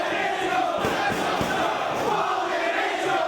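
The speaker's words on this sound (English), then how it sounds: "the crowd trying to cheer their men on" Arena crowd at a Ring of Honor Dragon Gate Challenge wrestling match cheering on the wrestlers, a dense continuous roar of many voices with scattered shouts, steady and loud throughout without a break.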